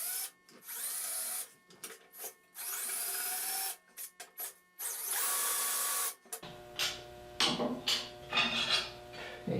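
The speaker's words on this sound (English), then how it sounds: "I'm just drilling this deep enough just to mark the center of the holes." A power drill bores shallow pilot marks for hole centers into a band saw table while fitting infeed and outfeed extension tables. Bursts of high whining drilling come in repeated short runs, then a longer stretch with steady motor hum and rattling.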